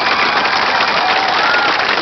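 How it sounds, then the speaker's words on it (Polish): A crowd applauds speedway rider Tomasz Gollob at an outdoor stage event on a riverside boulevard, giving a loud, dense, continuous roar of clapping. "Gorące brawa dla Tomasza"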